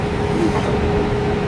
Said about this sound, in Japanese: めっちゃ今電車の中です。